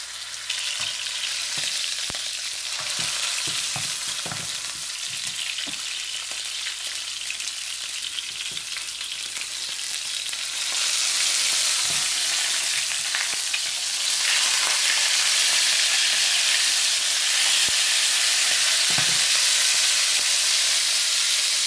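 Steak frying in a pan with a little oil, a loud, dense, hissing sizzle that holds steady and swells stronger partway through, with occasional faint clicks, close and continuous, with no voices.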